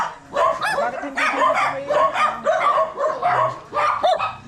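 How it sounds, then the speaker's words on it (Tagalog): A loud chorus of dogs barking nearby, repeated yaps and yips tumbling over one another, with faint voices underneath. "Karami, iba't ibang klase na ng aso"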